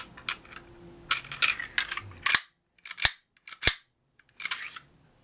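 Several sharp metallic clanks and clicks from a CZ-75 SP-01 Shadow pistol slide without its recoil buffer, spaced irregularly, close and loud, with mechanical rattling and handling noise between the first few.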